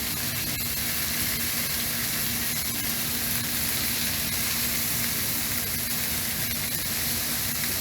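Butter sizzles on a grill alongside trout, tomatoes and other vegetables, a loud, steady hiss of frying and steam with no breaks or voices.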